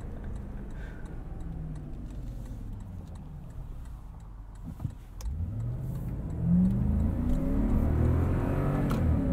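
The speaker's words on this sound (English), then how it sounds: "I love the soundtrack of this V8 in the background." V8 engine of a 2021 Lexus LX570 revving from inside the cabin, a subdued low hum that swells and climbs in pitch through the second half, steady and moderately loud with no talk.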